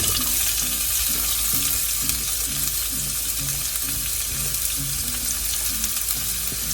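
Chopped large onion frying in oil with curry leaves, a dense, loud, continuous sizzle close up and steady throughout, with a faint pulsing hum underneath.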